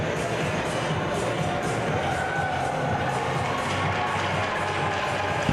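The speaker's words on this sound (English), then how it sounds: "Crowd going wild for this little one." A hockey arena crowd cheers and roars in a steady, dense wall of sound, with shouts and scattered voices mixed through it the whole time.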